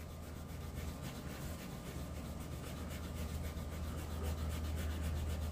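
Steady, continuous abrasive rubbing of sanding on a 1967 Mustang Fastback body, a constant rasping hiss with a low hum underneath, no voices.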